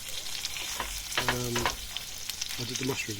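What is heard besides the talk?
king prawns sizzling in chilli and garlic butter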